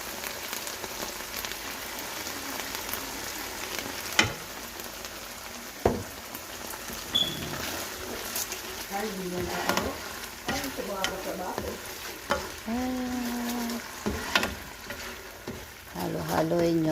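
Food frying in a pan with banana ketchup added, being stirred: a steady sizzle with scraping stir strokes and a few utensil knocks, close and moderately loud, with a voice speaking briefly toward the end.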